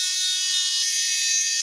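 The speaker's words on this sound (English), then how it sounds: "using a saber saw, I'll cut on these two lines" Saber saw cutting through half-inch plywood, a continuous harsh high-pitched whine with a fast buzzing edge, close and loud from start to finish.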